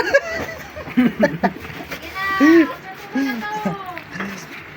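Several wavering bleats from a goat eating rice ring out nearby, mixed with people talking and laughing around them at a family New Year gathering.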